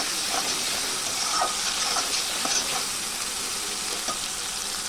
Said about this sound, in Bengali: তো অল্প দেবো ভালো করে কষতে নেব